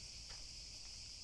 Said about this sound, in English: This sound that you can listen is the cicadas